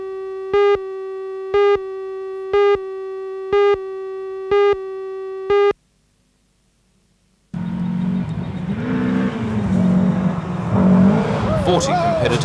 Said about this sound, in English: Competitors hit the dirt for this year's Matara Rally.